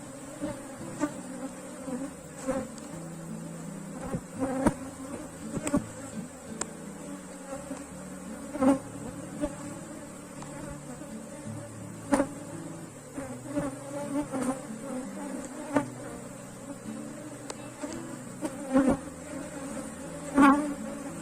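Honey bees buzz steadily around an open beehive box during a hive inspection, a dense, continuous hum heard up close with occasional louder passes from individual bees and faint handling knocks, with no talking.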